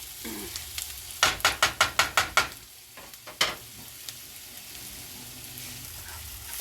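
Onions sizzle in a hot pan as a spoon scrapes through them in a quick run of about seven strokes, then a few scattered ones.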